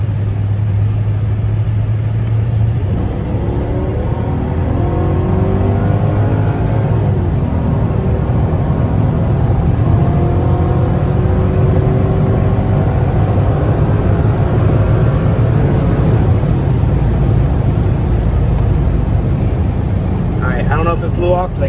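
Mercedes E55 AMG pulling hard under acceleration, a loud continuous engine roar with rising harmonic sweeps that climb through several gears, up close and steady with wind and road rumble underneath.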